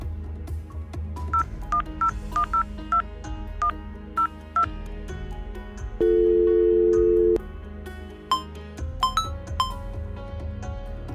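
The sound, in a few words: telephone dialing tones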